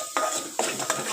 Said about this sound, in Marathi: असं हलवून घ्यायचं एकसारखं